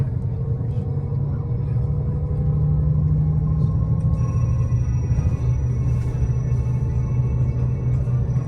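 A car roars past on a road in Norway, a loud, close engine rumble swelling and then easing off over several seconds, with steady traffic drone continuing underneath.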